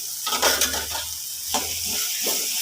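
A spoon stirring salt and spice powders into onions for egg masala curry in a hot pan, with scraping strokes and gentle sizzling close up.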